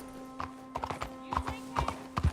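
Horse hooves clip-clop in an uneven walking rhythm in the video game Red Dead Redemption 2, close and crisp, with a faint steady hum underneath.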